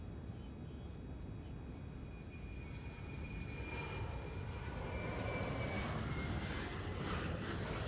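Auxiliary power unit spooling up on a Boeing 787-9 in a flight simulator game: a steady broadband roar with a thin whining tone that holds and slowly builds louder across the whole stretch, with no voices.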